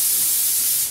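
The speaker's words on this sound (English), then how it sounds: "About 35 psi when you're spraying. That'd give you a nice spray there." Paint spray gun misting paint onto a motorcycle at about 35 psi, a loud, steady, close hiss that holds for the full second before tapering off at the end.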